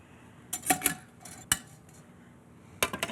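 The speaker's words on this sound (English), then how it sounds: "Now I'm going to use this medium-sized ricer and just put the cooked potatoes right into it." Cooked potatoes pushed through a medium-sized potato ricer in a home kitchen: a few sharp metallic clanks and clicks of the utensil, spaced irregularly with quiet gaps between, close and moderately loud, no talking.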